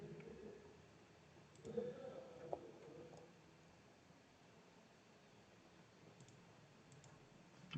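Computer keyboard keys are pressed in a few scattered clicks amid quiet room noise, with short bursts of tapping rather than continuous typing.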